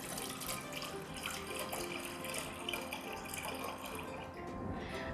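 Water runs steadily into a pan on the stove to soak almonds, a continuous close splashing and trickling stream that lasts throughout without any talk.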